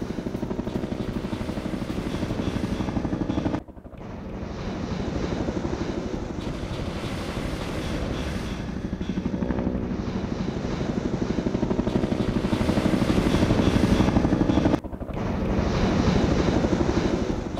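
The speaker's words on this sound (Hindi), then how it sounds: "MI-24 जो कि एक कॉम्बैट हेलीकॉप्टर है, इससे हाइड्रा रॉकेट दागे यूक्रेन ने।" Mi-24 combat helicopter in flight, a loud, steady rotor and engine roar with rhythmic blade chop that holds throughout, dipping briefly twice before resuming.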